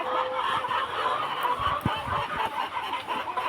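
Poultry on a farm call out in a noisy flock, honking and clucking over a constant background din, with a few louder cries standing out near the middle.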